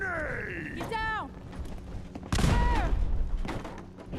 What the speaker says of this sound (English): Throwing grenade! Get down!